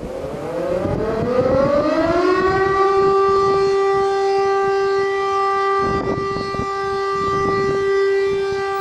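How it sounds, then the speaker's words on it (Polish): Civil defense sirens sound over a town square in Kępno, Poland at noon for an anniversary ceremony, a loud wail rising in pitch then holding a steady, sustained tone, with faint background crowd noise. "Punktualnie o godzinie 12 nad miastem rozległ się sygnał syren"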